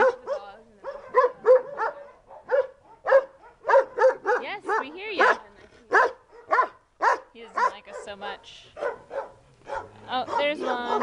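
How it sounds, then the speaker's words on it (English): A pack of dogs and puppies in Israel keeps up loud, nearby barking and high yips in quick repeated bursts, with some whining and people's voices among them. "Lots of dogs. And there were more puppies, obviously."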